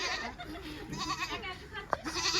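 A goat bleats nearby in a rural village yard, a short wavering call amid outdoor background noise, with a brief sharp knock near the end.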